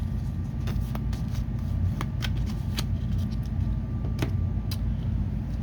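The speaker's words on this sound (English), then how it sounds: "we will shuffle the base cards" A deck of baseball game cards is shuffled by hand for a tabletop baseball replay. Crisp riffling flutters repeat at irregular intervals over a low steady background hum.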